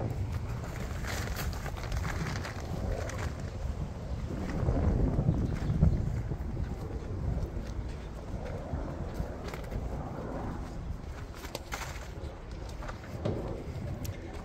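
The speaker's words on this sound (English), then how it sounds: "This wind isn't helping any" Outdoor wind buffeting the microphone, a steady low rumble with gusts that swell around the middle, continuous and close throughout with no talk.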